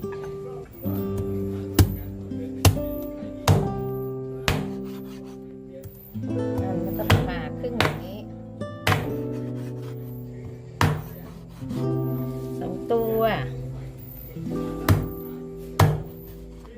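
Repeated sharp knife chops through catfish on a cutting board, falling in irregular bursts over steady background music, with a few brief spoken words between strokes.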